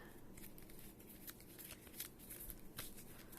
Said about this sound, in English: Shuffled and cut.